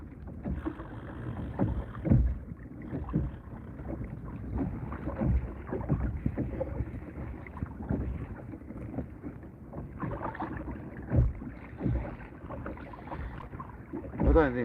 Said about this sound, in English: That thudding noise from a bigger engine.